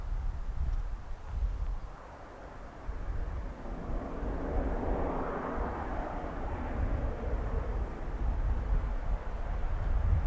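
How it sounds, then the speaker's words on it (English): Airbus A330 landing at Dublin Airport with thrust reversers deployed, heard as a distant, sustained broadband jet roar that swells and holds steady for about ten seconds, with no talk. "The fact that we can hear those reversers means the wind is blowing towards us."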